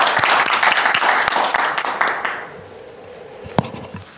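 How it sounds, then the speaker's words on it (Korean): An audience at a breakfast meeting on AI in future mobility applauds to welcome a speaker, a dense burst of clapping that thins out and fades over a few seconds. "큰 박수로 환영해 주시면 고맙겠습니다"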